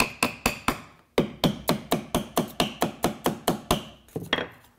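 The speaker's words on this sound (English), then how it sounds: "Then I can just tap these shims in." Hammer tapping wooden shims into place beneath a clamp while installing a copper backsplash: a close, steady run of about eighteen sharp taps at an even pace, with a short pause partway through and no talking.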